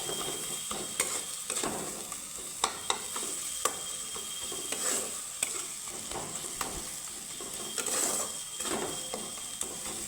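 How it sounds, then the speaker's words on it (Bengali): Spice masala with tomato fries in a pan while a spatula stirs it, giving a steady close sizzle broken by frequent sharp scrapes and taps of the utensil against the pan. "এইভাবে একটু ভেজে নিচ্ছি মশলাটাকে"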